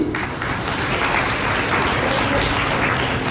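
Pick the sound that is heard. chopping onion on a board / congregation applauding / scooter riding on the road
congregation applauding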